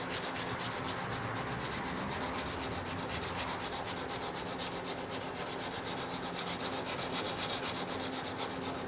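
Sandpaper rubbed back and forth over a workpiece while building a picture frame, the grit dampened with spit, making a continuous close, rhythmic scratchy rasp with no voices.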